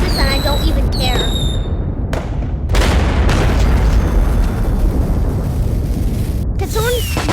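Fireworks show exploding in a video game, with repeated booming bursts, crackling and rising whistles overlapping in a dense, loud barrage while people talk.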